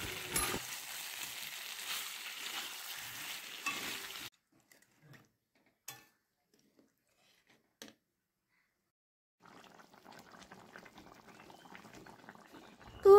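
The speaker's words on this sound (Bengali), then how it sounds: "আর এখন মাছের ঝোল রান্না করছি, ইলিশ মাছের ঝোল।" Hilsa fish curry with potato and eggplant simmering in a pot, a steady bubbling hiss that cuts out into near silence with a few clinks before the bubbling returns.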